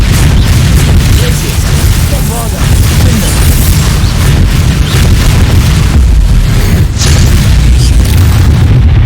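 Booming blasting-spell explosions in the Hogwarts Legacy video game, loud and dense with continuous rumbling impacts filling the scene, under spoken spell incantations.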